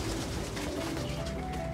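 Pigeons kept as pets coo softly in low, rounded murmurs that repeat close by against a steady background, with no voices.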